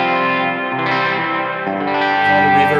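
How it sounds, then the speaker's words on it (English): Electric guitar played through a Strymon Blue Sky reverb pedal with distortion, sustained chords ringing into a wide, lush wash of reverb, loud and alone without any talk. "the Blue Sky by Strymon, it's a beautiful sounding reverb."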